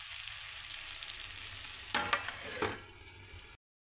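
Tomato chutney cooks in a pan with a soft, continuous sizzle, a few louder spatters and stirring scrapes near the end, heard close and fairly quiet before cutting to silence.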